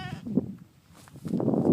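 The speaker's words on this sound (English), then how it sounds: "Sheep somewhere in the distance, I can't even see where it is." Sheep bleat faintly from somewhere out of sight on a misty mountainside on Scafell Pike in England, two soft, wavering calls in the distance over quiet outdoor air.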